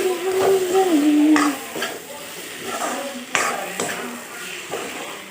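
Pumpkin and fish curry frying in an iron wok gives a soft sizzle under a spoon that stirs and scrapes. Several sharp knocks against the pan stand out, and a voice talks over the cooking near its start.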